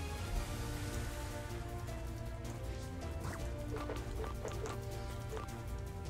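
Steady rain from Kyogre's Drizzle ability in Pokémon Brilliant Diamond/Shining Pearl, a constant, fairly loud hiss of falling rain that runs through the whole stretch with a few brief game tones over it and no talking.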